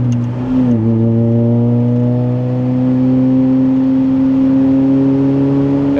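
A Lotus Elise engine drops briefly in pitch as the gear changes, then rises in a smooth, loud, steady rev from inside the tiny car, with no voices heard.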